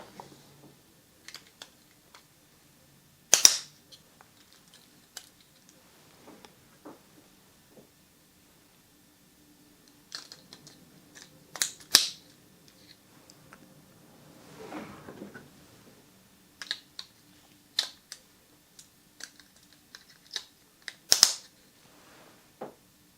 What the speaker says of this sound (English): You will have to apply pressure to snap them down into place.